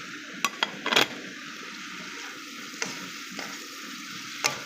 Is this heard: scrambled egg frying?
yes